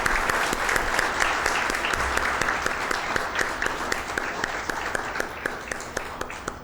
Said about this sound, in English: can we all give a big round of applause to everybody so far?